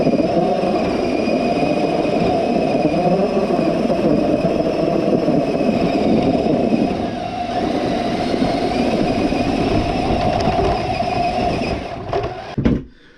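A Clodbuster RC truck's electric motor whines steadily with only the front wheels spinning, a continuous buzzing drone at close range that dips briefly midway and cuts off abruptly near the end.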